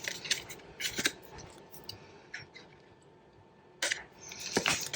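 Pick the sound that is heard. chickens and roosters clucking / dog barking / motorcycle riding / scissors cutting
scissors cutting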